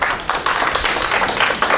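Audience at a mayoral forum applauding, a dense patter of many hands clapping close and loud through the whole moment.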